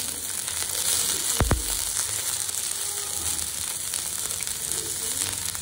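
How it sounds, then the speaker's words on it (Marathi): Red chilli, onion and capsicum are tossed in hot oil for restaurant-style chilli paneer, producing a steady, close frying sizzle with a couple of sharp clatters from the pan. "मी ह्याच तेलात घेतलेली आहे लाल मिरची, कांदा,"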